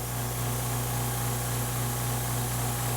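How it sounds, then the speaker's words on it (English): An air compressor runs off a DeWALT DCB1800 portable power station, a loud, steady motor drone with a constant hum and hiss that persists unchanged, with no talk. "we're going to plug this compressor in. And we're going to see if she runs."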